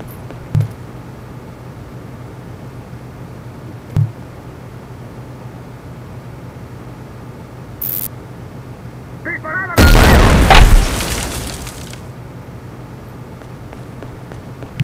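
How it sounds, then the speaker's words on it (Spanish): A Claymore mine detonates in the video game Conflict: Global Storm. A few faint clicks in a quiet stretch give way to a sudden, loud blast that rumbles for about two seconds before fading back to quiet. "La dirección de la explosión está muy controlada"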